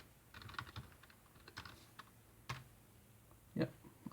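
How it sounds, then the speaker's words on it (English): A password is typed on a computer keyboard in quick, uneven clusters of soft key clicks, close and fairly quiet, with a slightly louder keystroke near the end. "I type in my password."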